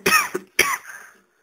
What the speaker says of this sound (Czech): za což se omlouvám, že vám kašlu do videa